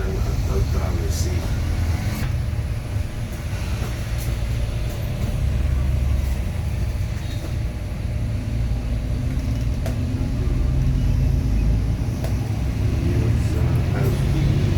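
An Aditransport bus passing on the road, a steady low engine rumble and road roar that holds at a fairly loud level throughout, with faint background voices.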